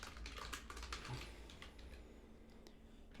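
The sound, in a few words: typing on a computer keyboard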